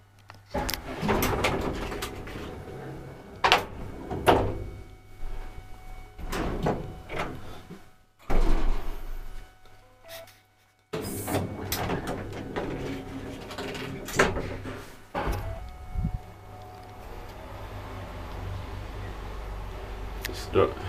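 Doors of an old ValmetSchlieren traction lift maintained by Otis, in an apartment building in Keltinmäki, sliding and clattering with several thumps and rumbles, a pause of near silence partway through, mechanical hum between movements.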